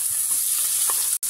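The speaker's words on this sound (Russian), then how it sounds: "На вторую сковородку я равномерно выкладываю мясо" Pieces of meat for goulash sizzle steadily in a hot frying pan beside onions in oil, a continuous close crackling hiss with a brief dropout near the end.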